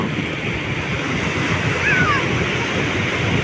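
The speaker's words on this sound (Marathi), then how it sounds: "समुद्राच्या लाट्या जिकडं बघावं तिकडं लाटाच लाटा" Steady roar of sea waves breaking continuously on Aare Ware beach, Ratnagiri, Konkan coast, loud and close, with wind noise over the microphone throughout.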